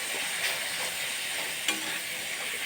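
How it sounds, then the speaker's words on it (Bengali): Ground spices for ghugni aloo dum sizzle steadily in hot oil in a pan, with a few soft stirring scrapes, up close and without talk. "এবার ভালো করে কষিয়ে নেব।"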